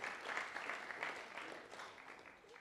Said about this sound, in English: Shall we clap for her?